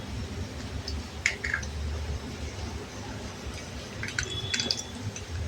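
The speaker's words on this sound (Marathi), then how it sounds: "मोहरी तडतडते" Mustard seeds crackling in hot oil in a wok on the stove as a vegetable dish is tempered, with scattered sharp pops and sizzles over a steady low hiss.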